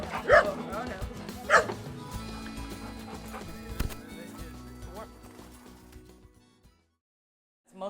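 Dogs at a rescue shelter with kennel cages barking in a couple of loud, separate yelps early on, over a busy, reverberant background of clatter and movement that fades away before a brief final noise.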